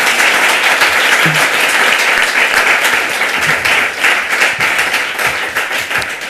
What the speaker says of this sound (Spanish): que un fuerte aplauso para ellos, para los compañeros